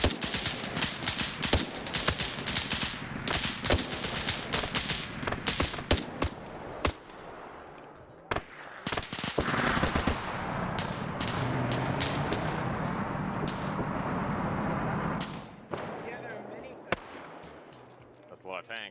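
Machine gun fire rattles through a World War II-style video game battle on Raate Road, dense bursts of sharp cracks in irregular clusters, loud and close, with sustained rumbling between volleys and occasional isolated shots.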